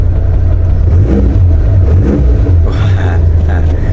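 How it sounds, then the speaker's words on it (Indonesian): A 1991 Suzuki Katana's engine runs loud and close, a steady mid-pitched idle with slight rises in revs, continuous from start to finish. "Kita start mobilnya, langsung tokcer tanpa digas."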